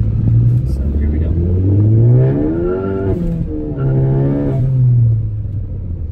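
A Ford Focus ST engine revs up and down repeatedly, rising and falling pitch sweeps close by, with turbo whine over the deep exhaust, sound symposer removed.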